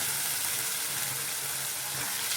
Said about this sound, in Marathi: तुपावरती छान परतून घ्यायची